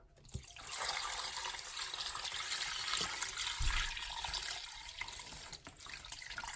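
A mixture of water, flour and onion soup pours steadily in a soft, continuous splashing stream over beef tips in a crockpot, with a few light knocks, and no talking.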